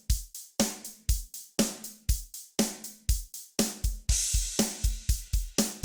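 Steady drum groove loop from a beat-making session, punchy kicks and snares repeating in a tight even pattern with crisp hi-hats and a cymbal wash midway.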